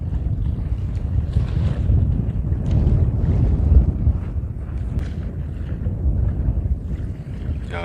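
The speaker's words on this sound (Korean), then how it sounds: "바람이 점점 심해지는야" Strong sea wind buffets the microphone during lure fishing on a rocky coast, a steady, loud low roar with gusty swells and no talk over it.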